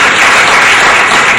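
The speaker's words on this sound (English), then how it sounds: "Give yourself a round of applause." A crowd at a consumer outreach programme in Calabar applauds itself, a loud, dense, continuous burst of clapping that holds steady throughout the short stretch.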